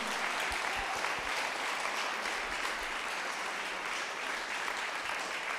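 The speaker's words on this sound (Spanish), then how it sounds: "Dele un fuerte aplauso a nuestro Dios." A church congregation claps continuously during a sermon, an even, fairly quiet wash of applause with a few low thumps underneath.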